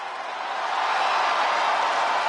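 Arena crowd in the WWE 2K25 wrestling video game roaring steadily as a wrestler is introduced, a dense, continuous wall of cheering that swells slightly and holds loud throughout.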